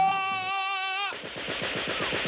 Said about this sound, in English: I'll man the Gatling gun.